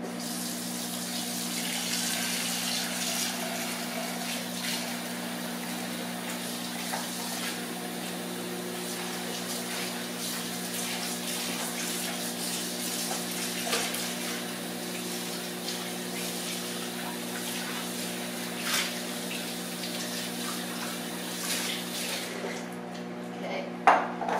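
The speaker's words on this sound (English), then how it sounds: "I'm going to rinse my bowl out here" A bowl is rinsed under a running kitchen tap: a steady stream of water pours into the sink for over twenty seconds, close and constant, with faint clinks of dishes and a louder knock near the end.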